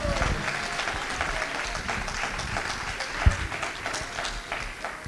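A church congregation applauds after a sermon, with dense, steady clapping from a large crowd that carries on throughout, a single louder thump partway through and a faint murmur of voices underneath.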